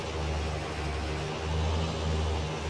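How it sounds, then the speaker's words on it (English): A tractor engine runs continuously in Farming Simulator 19, a steady, close, low droning rumble with a slight rise and fall in pitch, with no voices. "I mean, the engine on this does sound a little different than other stuff."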